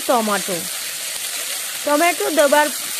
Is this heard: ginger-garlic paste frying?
yes